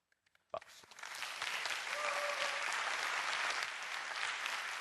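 Applause from a lecture audience bursts in after a brief pause and builds into steady, dense clapping that fills the rest of the stretch, loud and sustained.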